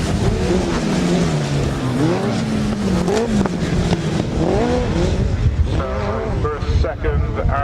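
Grasstrack racing motorcycles at the 2000 British Team Grasstrack Championships roar round the track on the final lap, engines rising and falling in pitch as they pass, with a commentator talking continuously over the constant racing noise.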